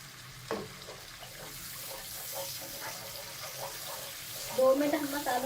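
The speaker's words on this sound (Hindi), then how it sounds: "अब हम अपने तमाम मसालों को अच्छी तरीके से भूनेंगे।" Whole spices and masala frying in a pan with a little water added while cooking beef kofta, a soft continuous sizzle with faint stirring and a louder bubbling burst near the end, under light talk.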